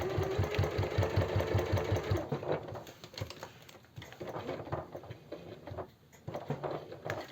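A sewing machine stitches a narrow women's faux leather strap, running in a quick, even burst of close mechanical pulses for about two seconds before it stops and gives way to quieter handling noises.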